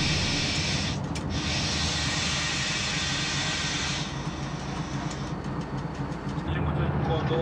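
A class 733 Bo-Bo locomotive rolls across the route 29 tram track crossing in Budapest, a steady rumbling rail noise with hissing and rattling, continuous and close, shifting in texture partway through.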